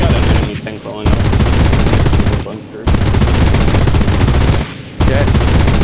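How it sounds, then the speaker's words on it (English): Rapid, loud bursts of 20mm cannon fire aimed at a P-38 in the WWII shooter Enlisted, Normandy map, coming in long continuous strings separated by short pauses. "I'm just, dumping endless 20mm into this P-38"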